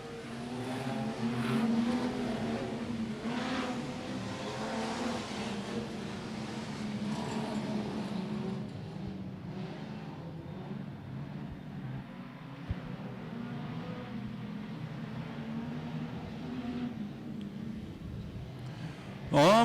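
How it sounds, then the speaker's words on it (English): Modified production race cars compete in a night feature race at Gympie Speedway in Queensland. Their engines roar continuously at close range, and race commentary talk runs over them. "Oxham gets in the back of Baxter, trying to unsettle the young fella who leads of tonight's feature race"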